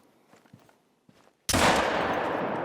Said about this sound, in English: you see how I'm just hip shooting